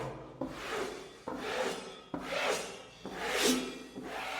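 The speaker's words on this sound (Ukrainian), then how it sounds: "беремо шпателя і приглажуємо наше полотно" A spatula smooths fiberglass cloth on a wall in long rasping strokes, with four or five sweeping passes that each start sharply and fade, heard close and alone.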